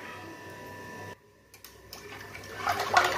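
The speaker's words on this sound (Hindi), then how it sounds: "इसमें मैं पानी डालूँगी" Water is poured into a kadhi mixture seasoned with turmeric and salt. It starts as a faint, low rush and swells toward a louder splashing pour at the end.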